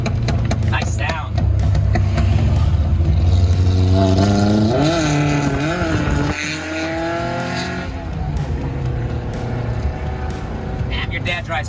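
A small Japanese truck drives fast on an American road, its engine droning steadily close by for the whole stretch while people talk and shout excitedly over it.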